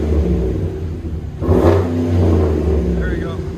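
A Chevy 6.6L V8 truck fitted with a Black Widow exhaust idles with a deep, steady rumble, then swells into a louder rev midway before settling back to a strong drone, with a voice talking over it.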